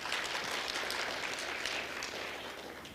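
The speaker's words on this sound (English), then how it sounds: "give them a warm round of applause" An audience at a skills summit breaks into warm applause, a dense, continuous patter of many hands clapping that fills the room and eases off slightly toward the end.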